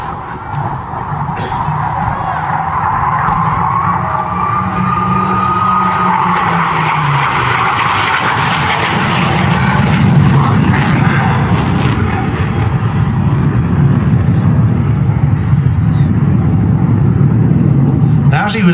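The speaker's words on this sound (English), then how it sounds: "Rolls-Royce Avon won out, and that's the engine you're listening to now." Hawker Hunter jet with a Rolls-Royce Avon engine of 10,600 pounds thrust passing at an airshow, a loud continuous roar with shifting pitch that swells and sweeps across, with a faint voice beneath.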